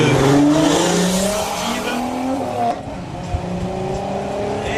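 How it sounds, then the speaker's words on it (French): A race car engine roars loudly with a sharp, resonant note from its stainless steel exhaust, the pitch sweeping up and down as it revs and shifts, with no talking, at the 2019 Saacy hill climb. "son mélodieux échappement inox dont je vous parlais tout à l'heure"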